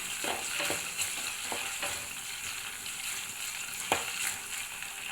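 Ginger paste being stirred into browned onions frying in a pan, a soft steady sizzle broken by several scraping strokes of a spoon and one sharper knock, close and without speech.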